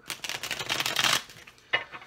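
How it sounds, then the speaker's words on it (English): Tarot cards being shuffled by hand, a dense papery riffle and rustle lasting about a second, followed by a brief pause and one more short flick of cards, close and fairly quiet. "So I'm going to shuffle the cards up."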